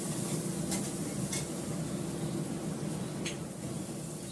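Food cooking in a pan with little oil, a faint steady sizzle with a few brief scrapes of a utensil stirring against the pan.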